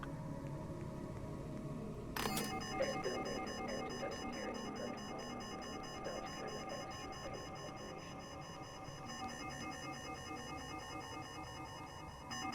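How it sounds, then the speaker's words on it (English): Alarm going off in the Shadows of Doubt video game, starting abruptly and then ringing on continuously as a dense, pulsing electronic tone over low background noise. "Alarm. Oh, that's sabotage. I meant to trigger it."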